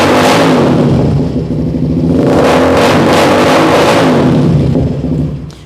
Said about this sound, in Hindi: और उसके बाद अब आपको हम एग्जॉस्ट के साथ भी इसकी साउंड सुनाते हैं।